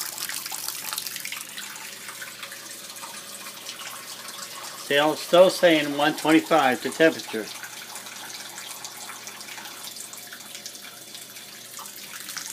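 A tap fed by a tankless electric hot water heater runs at low pressure with a thin, steady stream that swells to a louder gush for a few seconds, and someone talks over it.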